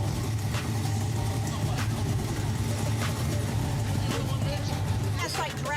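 A car engine on a neighborhood street rumbles and revs steadily, loud and close, under people talking.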